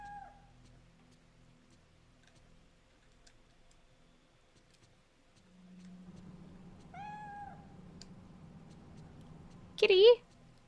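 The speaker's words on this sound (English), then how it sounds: "Cat? You're my cat, right? That's my cat?" A cat meows in the video game Fatal Frame III. Two short, clear meows come at about seven and ten seconds, with the second louder, over a low game drone and a soft ticking clock.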